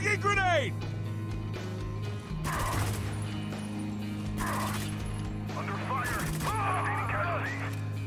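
Gunfire in the Spec Ops: The Line bridge battle, with several sharp broadband bursts of shots and clattering impacts over a steady mechanical game hum, along with scattered tonal game sounds.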